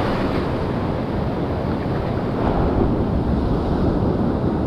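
Big ocean waves roll onto the shore in a continuous loud roar of surf mixed with wind buffeting the microphone, with no voices.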